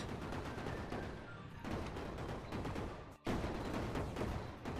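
A laser weapon in the vehicle-building game Brick Rigs fires in a dense, continuous rattling stream, cutting out for an instant before resuming at full intensity.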